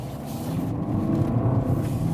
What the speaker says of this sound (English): Let's accelerate, see how that all-wheel drive plays out